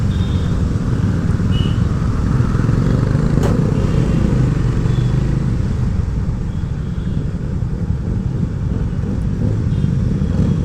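A Hero Maverick 440 motorcycle rides along with a steady, loud engine drone. Heavy wind rush over the microphone partly masks it, and no one talks.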